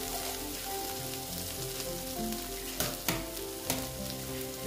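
Potato and flour batter frying in a pan with a steady sizzle close by. A few sharper clatters of utensil against the pan break through, with no talking.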